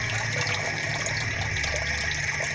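Water pours steadily into a tank through a float valve, a continuous near, loud rushing gush that holds even throughout.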